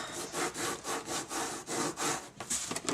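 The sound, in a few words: rubbing and burnishing chipboard cover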